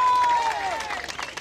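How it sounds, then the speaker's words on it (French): Brief crowd applause for the Seine-et-Marne firefighters at an outdoor road safety fair, a soft wash of clapping heard at a distance, with a faint whistle-like tone gliding down at the start. "Qu'on applaudisse comme il se doit nos amis des sapeurs-pompiers du style Seine-et-Marne."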